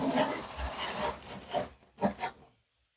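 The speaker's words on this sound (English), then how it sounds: "you can come in with your trowel with the quarter by quarters" A quarter-by-quarter notched trowel spreading mortar on cement board for tile prep, giving close, gritty scraping strokes in several short passes before falling silent.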